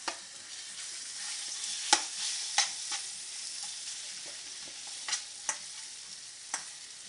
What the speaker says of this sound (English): So I'll just stir fry this for about a minute.